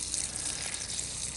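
Water from a fish tank pours onto basins around garden plants, a soft, steady hissing splash that is faint and continuous, with no voices.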